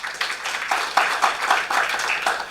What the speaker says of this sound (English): you can give yourself a round of applause.